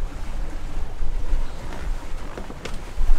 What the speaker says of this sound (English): All right, engine is off, and we are officially sailing.